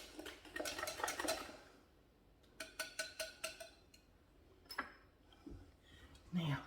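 A spoon clinks and scrapes against a bowl while pecan pie filling thickened with cornstarch is mixed. The rapid bursts of stirring are broken by pauses and a few rhythmic taps, quiet and close, with a person talking.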